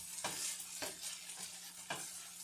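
Spinach and potatoes frying down in a pan, a steady close sizzle broken by a few sharp stirring scrapes and bursts, with no talking.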